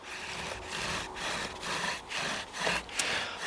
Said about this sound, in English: Let's do some bow drilling.